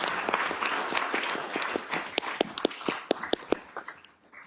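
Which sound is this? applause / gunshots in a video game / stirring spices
applause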